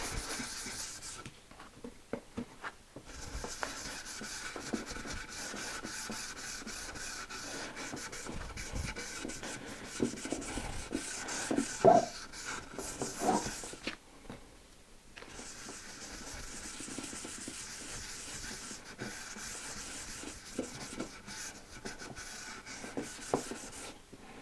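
Cloth rubbing finish into an end grain wooden cutting board and down into its groove, a steady close scrubbing texture with brief pauses, no talking.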